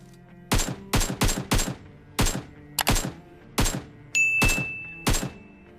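Sharp, separate gunshots from a battle royale video game while a bot is taken down, about ten loud close shots in uneven bursts with short silences between.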